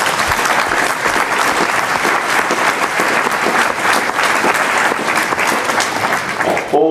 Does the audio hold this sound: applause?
yes